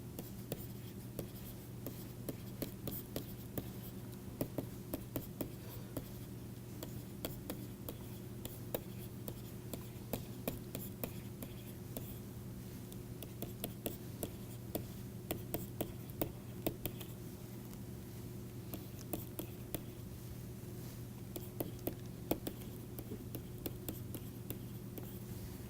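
An equation being written out by hand during a lecture on droplet vaporization models, giving a long run of faint, rapid scratchy strokes and taps with irregular rhythm over a low steady hum.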